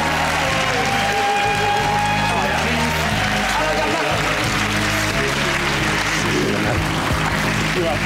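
A studio audience on a television chat show applauds loudly and steadily, dense clapping and some cheering filling the space close up for the whole stretch, with a voice calling out faintly underneath.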